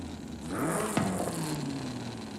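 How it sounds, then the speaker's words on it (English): Modified car exhaust in the Forza Horizon 5 racing game, a raspy engine rising as the car accelerates over a couple of seconds, close and moderately loud. "This makes the exhaust sound a little raspy, but it does give us more power."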